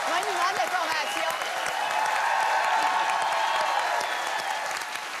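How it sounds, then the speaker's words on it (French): A TV studio audience bursts into sustained applause, many hands clapping loudly and evenly, with a few faint voices mixed into the crowd noise. "On l'applaudit."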